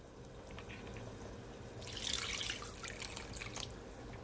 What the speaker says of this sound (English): I haven't had no water to it. I'm gonna add some more.